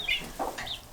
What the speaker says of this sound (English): You can see our Polish hen back there, Eliza.